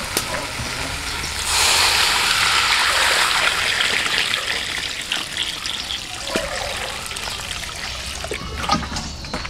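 Water poured into a hot pan (kawali) for outdoor-cooked nilagang pork hock (pata) with taro, a steady gushing trickle starting after a moment and continuing close and fairly loud.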